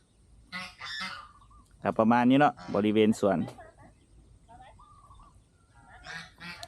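Geese honk loudly in a short burst of several calls, close by, near goose and chicken pens, with a person talking before and after.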